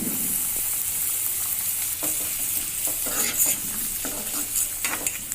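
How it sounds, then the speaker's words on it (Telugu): Chopped onion, tomato and green chili fry in hot tempering oil with a constant loud sizzle, while a spoon stirs and scrapes the pan in irregular strokes throughout. "తాలింపు బాగా వేగిన తర్వాత ఆనియన్, టమాటో, మిర్చి ముందు కట్ చేసి పెట్టుకుని వేసుకోవాలి."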